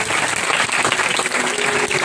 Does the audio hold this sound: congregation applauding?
yes